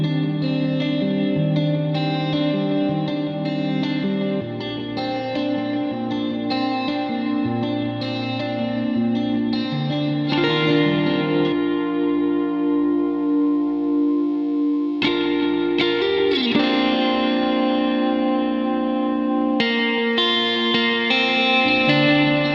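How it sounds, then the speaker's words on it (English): A guitar-driven mix with delay and reverb applied, sustained chords ringing with echoing repeats and a washy tail, playing continuously and loudly with no talking. "we're adding a little bit of a delay, and then we are adding just a little bit of the reverb"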